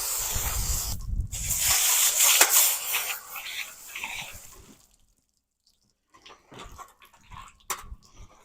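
Water sprays and hisses steadily while a butchered pig carcass is rinsed, a strong wash that cuts off after a few seconds, then quieter scattered drips and handling noises follow.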